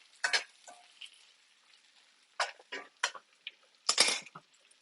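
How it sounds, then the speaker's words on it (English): Bok choy stirred in a hot pan with butter: several scraping, clattering strokes of a utensil against the pan, near and fairly faint, separated by quiet gaps with low sizzling beneath. "Give this a little stir."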